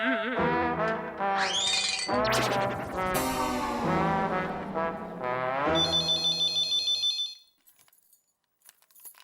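A home telephone rings with a loud electronic melodic ringtone that plays for several seconds, shifts to a higher trilling tone, then cuts off into near silence.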